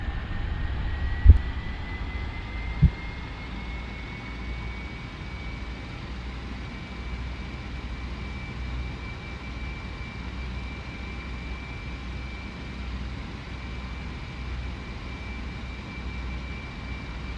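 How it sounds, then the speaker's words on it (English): A Boeing 737-300/400 engine in a flight simulator spools up, its whine climbing in pitch and then settling into a steady drone over a low rumble, after two sharp clicks. "So yeah, that's her engine starting up."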